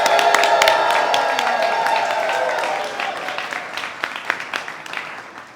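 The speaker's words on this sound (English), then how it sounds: "Please raise your glass to toast Brian and give him a big cheer." A brunch crowd at a Pride kickoff event cheers and claps loudly at first, then the applause thins into scattered individual claps and fades toward the end.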